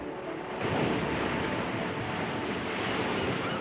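Ocean surf pounds the rocky Maine shoreline at Thunder Hole, a loud continuous roar of crashing, surging water with heavy wind rumble and no voices.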